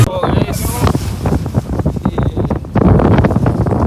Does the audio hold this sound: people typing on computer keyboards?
no